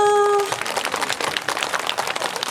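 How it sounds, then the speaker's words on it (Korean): An audience at an outdoor festival stage breaks into applause, dense steady clapping from many hands after a sustained tone fades at the start. "박수 한번 주세요"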